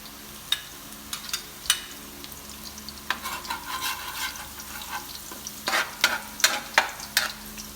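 Garlic frying in a pan for pork steak, a steady close sizzle broken by scraping stirs and clacks of a utensil against the pan, the stirring strokes growing busier toward the end, with no talking.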